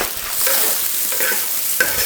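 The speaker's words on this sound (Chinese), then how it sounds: "要把它翻炒一下，蒜末、生姜，再给它抓一点辣椒" Garlic, ginger and chili stir-fried in a wok with pork ribs, giving a loud continuous sizzle broken by the scrape and toss of a spatula moving the food.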